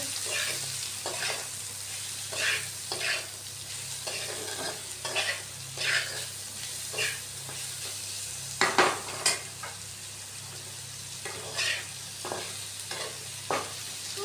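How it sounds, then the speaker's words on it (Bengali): Onions frying in a pan with Kashmiri red chili powder, stirred repeatedly: a steady close sizzle under regular scraping strokes of a spoon, with a few louder clatters midway, and no voices. "এখানে আমাদের পেঁয়াজটা ভালো করে ভাজা হয়ে গেছে"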